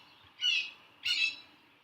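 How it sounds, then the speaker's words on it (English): A hawk calls twice in a backyard, two shrill, fairly distant cries about half a second apart over a quiet background. "It's actually a hawk in my backyard."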